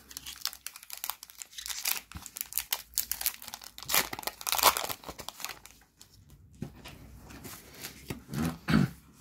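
Pokémon card booster pack from the Ombre Ardente (Obsidian Flames) set being opened, with close, loud foil-wrapper crinkling and tearing in bursts, the handling continuing in softer rustles toward the end.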